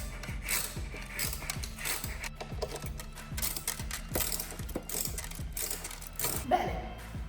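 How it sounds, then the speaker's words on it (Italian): Ratchet wrench tightening a motorcycle mount, giving a quick steady run of close, rhythmic clicks with no talking over them. "ho deciso di utilizzare questa chiave a cricchetto"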